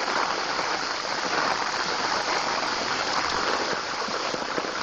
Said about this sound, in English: Here's another sewer, bubbling, water shooting up.